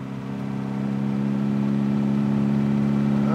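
A car engine holds a steady, droning hum under strong engine braking, growing slightly louder over a few seconds with no talk.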